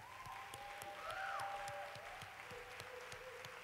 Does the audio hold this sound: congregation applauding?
yes